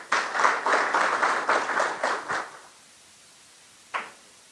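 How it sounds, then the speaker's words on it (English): An audience applauds for about two and a half seconds at a political gathering, the clapping dense and then tapering off, followed by one isolated thump after a pause. "Can we give the ED another round of applause?"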